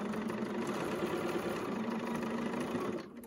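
A sewing machine stitching pleats on a fabric face mask runs in a steady, fast mechanical whir close by, holding constant for about three seconds before stopping abruptly.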